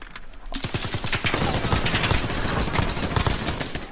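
Rapid automatic gunfire rattles through a video game firefight, with dense bursts of shots piling up close and loud, nearly continuous over a few seconds.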